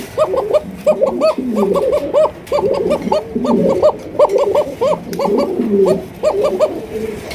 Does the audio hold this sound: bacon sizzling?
no